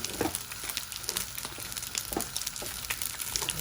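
Fried rice tossed and sizzling in a pan, a continuous crackling sizzle with frequent soft scraping and tossing rustles, close and moderate, no talk.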